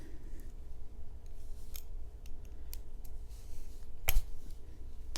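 A Kexmo budget folding pocket knife slices through a zip tie. Faint scraping leads up to one sharp, loud snap as the plastic gives way, with no voices.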